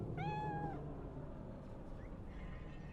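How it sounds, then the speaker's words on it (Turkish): A cat in the video game Cyberpunk 2077 gives one clear, drawn-out meow, followed by a brief faint chirp, over a quiet steady game ambience without talk. "Kedi."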